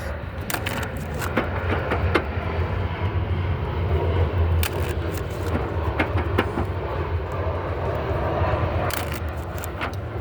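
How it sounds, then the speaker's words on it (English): A fixed-wing airplane passes overhead with a steady, broad engine roar that holds for the whole stretch, fairly loud and outdoors, with a few faint knocks and clicks nearby. "Let's let the plane pass by. All the noise."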